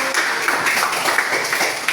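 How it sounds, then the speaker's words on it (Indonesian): A classroom applauds group 1 after their presentation, steady close clapping from many hands filling the whole short stretch. "tepuk tangan dulu untuk kelompok 1"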